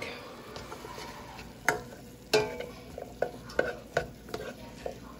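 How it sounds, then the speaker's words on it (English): Soft sizzling of garlic sautéing in a pan with occasional sharp clinks and scrapes of a utensil stirring, fairly quiet and close. "You can hear the sizzling."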